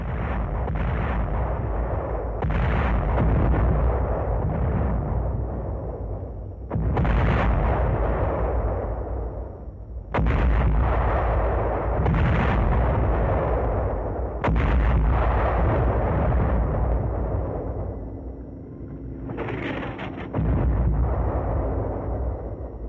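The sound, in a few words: destroyer's 5-inch gun firing shells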